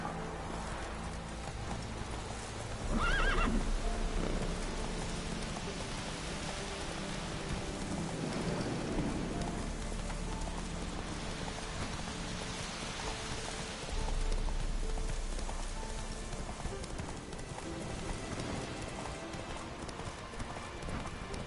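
Hooves of Roach, the horse in The Witcher 3, clop steadily through an outdoor scene while rain patters and distant rumbles roll underneath. The sound is faint overall, with a couple of louder surges along the way.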